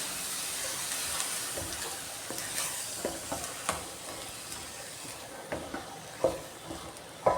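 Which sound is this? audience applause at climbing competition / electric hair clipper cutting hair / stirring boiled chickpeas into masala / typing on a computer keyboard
stirring boiled chickpeas into masala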